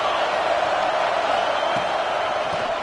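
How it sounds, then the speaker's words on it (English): Football stadium crowd roaring steadily and loud, a dense sustained wall of cheering during second down with no gaps. "this crowd is turning it up a notch"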